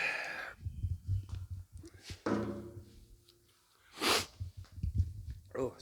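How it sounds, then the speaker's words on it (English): A person with a stuffy nose sneezes and sniffles in a garage beside a car, with a sharp sneeze burst amid snorts, sniffs and breathy sounds, plus some muffled vocal noises around them. "I've got a bit of a sniffle nose today"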